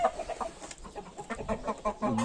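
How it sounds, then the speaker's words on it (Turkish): A hen and a rooster housed side by side in a coop cluck in quick, uneven bursts, fairly close, with a louder call building toward the end. "Bir tavuk, bir horoz mu bunlar?"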